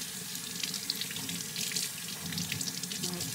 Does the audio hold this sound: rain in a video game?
no